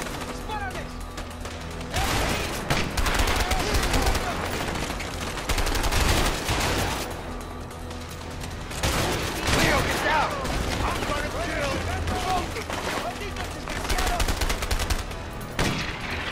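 Video game gunfire from the co-op game A Way Out, sustained bursts of rapid automatic shots in loud waves with brief pauses, mixed with other game sounds.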